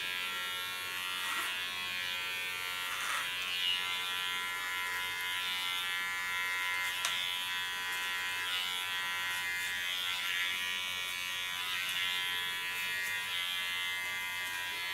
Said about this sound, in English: The roundings around the ear I do with even a smaller comb and a smaller clipper.